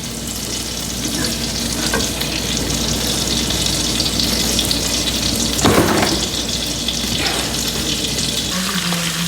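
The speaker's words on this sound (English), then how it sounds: "fry the pork chops in here on the highest flame" Thin pork chops frying in a pan over the highest flame, giving a steady, loud, close sizzle and crackle throughout with no talk.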